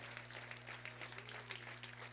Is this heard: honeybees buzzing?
no